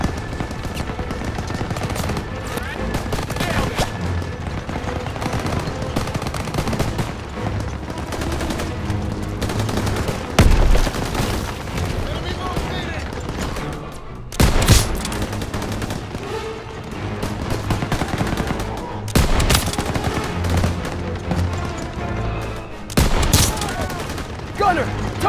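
Dense gunfire and explosions in the video game Call of Duty: WWII, a loud continuous battle of rifle and machine-gun bursts with heavy booms and tank fire, and voices shouting over the din.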